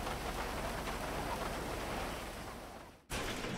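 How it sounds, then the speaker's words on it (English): Steady rain falling in the online mode of the video game GTA 5, a dense even hiss that fills the whole stretch alone, with a brief cut just before the end. "It's kind of rainy outside"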